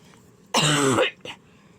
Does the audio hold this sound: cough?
yes